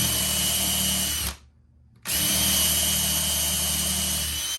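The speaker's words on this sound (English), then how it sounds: "Then I also am drilling a through hole." A power drill bores a through hole while converting a box fan into a ceiling fan, running loud and steady, stopping for under a second, then whirring again at full speed.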